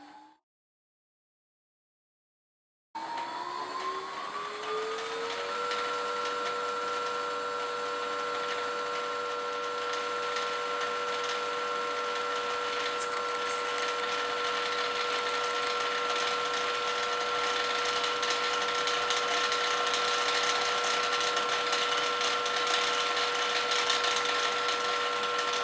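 A sewing machine winds a bobbin under pedal control, a steady motor whir that rises in pitch over the first few seconds and then holds an even, continuous hum, close and alone after a brief silence.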